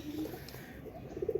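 A pigeon coos softly in low, rounded phrases, closing with a quick run of short coos over a faint, steady background hum.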